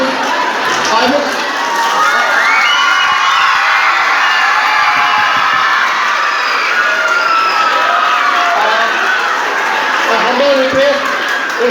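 Students at a school Teachers' Day celebration shouting and cheering together, a loud, dense crowd roar of young voices that rises and falls without a break.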